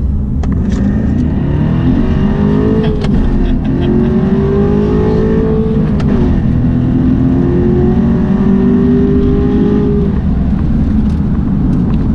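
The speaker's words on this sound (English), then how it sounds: "So you're going to get to see a raw reaction of me driving a Corvette." Chevrolet C7 Corvette engine revving on the move, a loud, close, continuous drone that climbs and holds in pitch through several throttle rises, with no talking.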